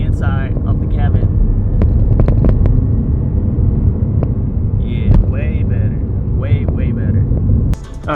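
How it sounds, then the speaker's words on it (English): Engine of a 2022 Subaru BRZ droning steadily while driving, with constant low road and exhaust rumble throughout and brief voices speaking over it. "all the sound you can hear it coming from the engine and not from the inside of the cabin"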